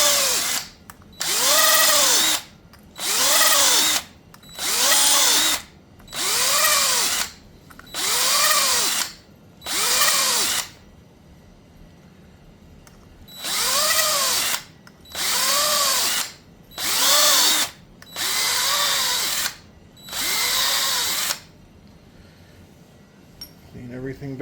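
A power drill unscrews fittings on a shower valve during installation, giving a series of about a dozen short, loud whirring bursts with a rising and falling pitch, separated by brief pauses, close by.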